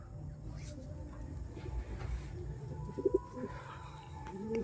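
A pair of Chennai breed pigeons coo softly in low, rumbling murmurs against a steady background hum, with a couple of brief sharper sounds near the middle. Fairly faint and close, with no talking.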